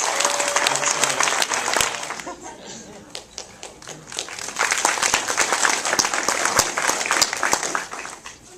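Film festival audience applauds after a shorts Q&A session, a dense wash of clapping that dips briefly midway then swells again, with some voices under it.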